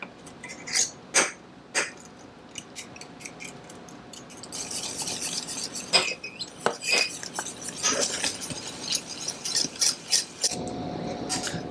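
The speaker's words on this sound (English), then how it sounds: "So I'm going to remove it from the heat and whisk." Hot caramel whisked off the heat, a metal whisk clinking and scraping in a pan with quick, irregular taps and a steady stirring rasp, close and fairly quiet, with no talking.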